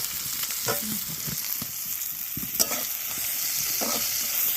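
Onions frying in oil for a dried fish curry, a steady close hiss of sizzling with a few spoon-scraping knocks against the pan.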